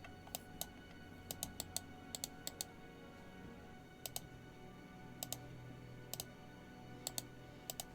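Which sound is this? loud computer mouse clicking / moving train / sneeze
loud computer mouse clicking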